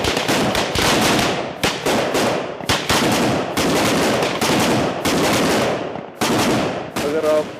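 Gunfire rattles through an army squad training exercise in loud, sustained automatic bursts, separated by brief pauses and a few sharp single cracks, close and dominant throughout, with a short tonal sound near the end.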